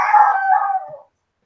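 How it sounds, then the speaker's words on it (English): A dog howls once in a drawn-out, wavering indoor cry lasting about a second, loud and close, then breaks off into silence. "No, that's the dog. He wants outside."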